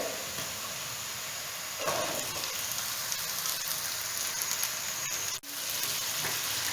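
Carrots are dropped into a pan of lightly browned onions frying in oil while cooking chicken vegetable rice, giving a steady loud sizzle that swells as they land, with a brief dip near the end.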